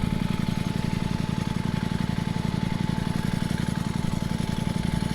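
Ducati V4 SP motorcycle engine on a test ride, giving a steady, close, even rumble with a fast regular pulse that holds at one level throughout, with no speech.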